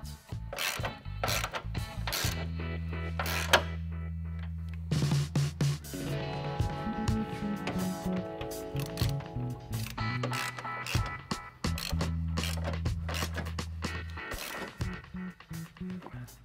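Ratchet clicks in bursts while body mount bolts are tightened on a Jeep Gladiator fitted with bolt-on rock sliders, close up, with a steady machine-like hum and rattling in between.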